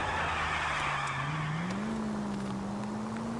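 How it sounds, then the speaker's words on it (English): Car tires skid and squeal through a handbrake turn in the L.A. Noire video game, a sustained loud screech over engine roar whose pitch rises partway through and then holds steady. "Handbrake turn."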